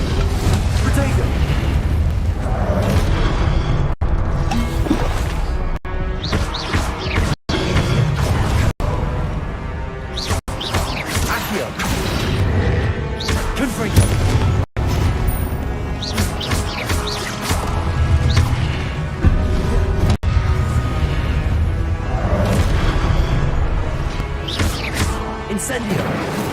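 Loud, crashing Confringo and Incendio spell explosions in a Hogwarts video game, repeated booms and whooshes through a dense, continuous battle din, with a voice calling out spell names throughout.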